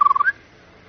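A bird in an audio drama gives one short, close, warbling whistle that lifts slightly in pitch, then falls silent.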